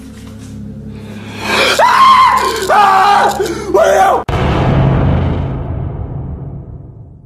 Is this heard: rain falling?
no